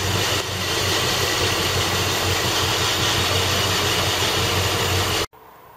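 A 1978 LTD car engine idles while warming up, a loud, steady, close rumble with constant vibration that cuts off abruptly just before the end.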